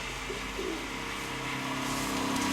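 A domestic racing pigeon coos softly, a low throaty murmur against a quiet outdoor background with a faint hum and no talking.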